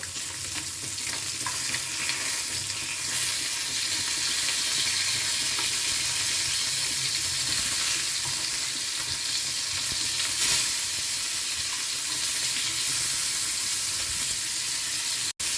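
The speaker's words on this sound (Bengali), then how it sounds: "মাছগুলো সব উল্টে দিলাম। এই পিঠটা ভেজে নিই।" Rohu fish pieces, turned over in a frying pan of hot oil, sizzle loudly and continuously up close, with faint scrapes and a sharp knock at the end.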